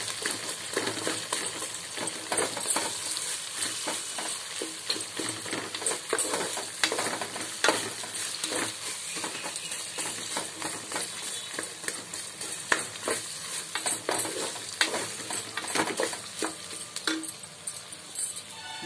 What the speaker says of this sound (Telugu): ఉల్లిపాయ ముక్కలు ఇంగువ కూడా వేసాను.